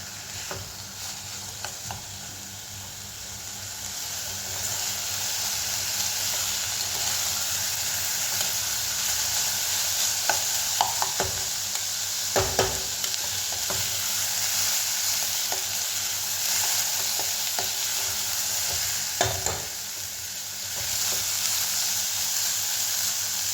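Vegetables with beetroot are stirred and sautéed in a hot pan, a steady sizzle running throughout with occasional sharper scrapes and clatters of the spoon.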